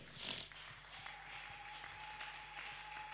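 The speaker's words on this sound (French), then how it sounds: "Est-ce qu'on peut acclamer le Seigneur?" A church congregation breaks into applause for the Lord, a broad wash of many hands clapping that swells early and then holds steady, slightly distant and moderately loud.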